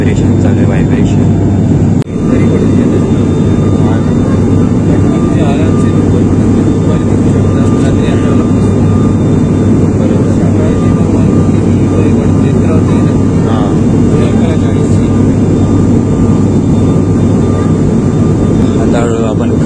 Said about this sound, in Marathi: विमान व्हायब्रेट होत आहे थोडं थोडं.